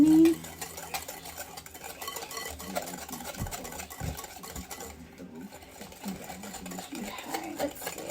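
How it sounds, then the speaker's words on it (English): Egg yolks and sugar for eggnog are whisked in a bowl, making a continuous fast whirring and stirring sound. It stays close and steady for several seconds with light metallic scraping and no clear speech. "I'm gonna add a 1/2 cup of sugar, and then I'm just gonna whisk this until it's light and creamy"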